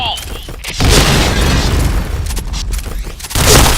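A grenade blast in the shooter game Point Blank erupts as a loud, broadband boom that rumbles on for several seconds, with a second heavy burst near the end and game voices calling out over it.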